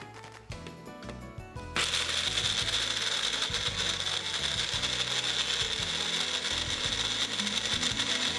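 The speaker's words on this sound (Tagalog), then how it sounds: "Ilagay natin ng mga buto ng kasoy sa isang dikuryenteng gilingan o maaaring gumamit ng almeres para pulbusin ang mga buto." An electric grinder whirs loudly as it powders cashew nuts, starting after a second or so of rattling and clicking, then holding a steady, harsh, close grinding tone to the end.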